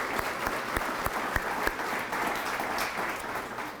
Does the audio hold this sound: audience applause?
yes